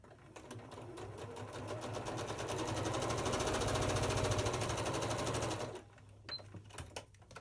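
A sewing machine pieces a flying goose quilt block in one close, rapid stitching burst of about five seconds that rises and then stops, followed by a few faint handling clicks.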